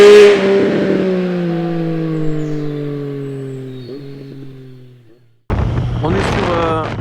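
A loud 2020 Triumph Street Triple 765 RS motorcycle engine revs high to the redline, then slowly winds down, before roaring back up in a sharp burst of revving.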